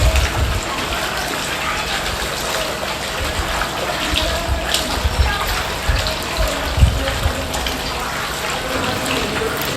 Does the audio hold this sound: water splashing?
yes